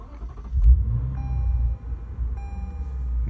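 A 2018 Lexus RC-F started by push button, a low engine rumble swelling briefly then settling into a steady deep idle, heard close with a faint chime in the cabin.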